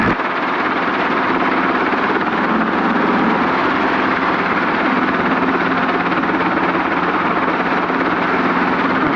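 A helicopter hovers during a flight lesson, its engine and rotor making a loud, steady roar from inside the cockpit that holds level and unbroken throughout.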